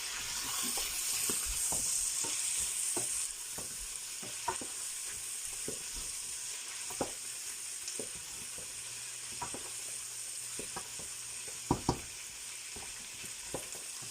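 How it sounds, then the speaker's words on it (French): Garlic sizzling in a hot pan while being stirred, a continuous close frying hiss with regular scrapes and taps of a utensil against the pan, louder sizzle at first then settling. "Nous ajoutons notre ail. Nous allons remuer pour que ça ne colle pas."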